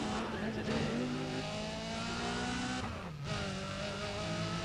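Race car engines in the Need for Speed video game, a loud sustained drone with rising and falling rev tones and a brief dip near the end before it builds again.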